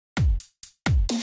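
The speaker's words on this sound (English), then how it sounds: "The drums are from the Utopia kit from Cymatics." EDM drum hits from the Cymatics Utopia kit: a punchy, hard-hitting kick with a deep boom, a short snappy hit, then another heavy kick and a bright echoey snare, loud and dry, without voices.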